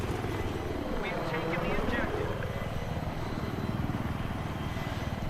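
A helicopter flies in a PC video game, giving a steady, loud throbbing rotor drone that continues for the whole clip without letting up.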